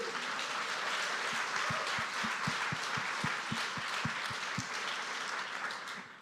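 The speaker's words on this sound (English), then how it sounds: "Round of applause for all of you guys for coming." An audience applauds at a live in-person debate on whether God exists. The clapping is dense and sustained throughout, with a few louder, sharper claps standing out near the front, and no talk over it.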